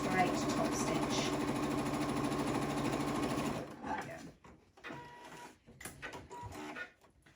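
A sewing machine runs a straight top stitch on a hobby bag, whirring rapidly and evenly for about three and a half seconds before stopping; scattered handling knocks and a quiet voice follow.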